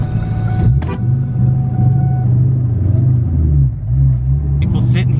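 A Pontiac Trans Am with a Magnum transmission idles with a deep, loud, steady engine rumble, the pitch dipping and rising slightly as it rolls, with brief outside noises over it.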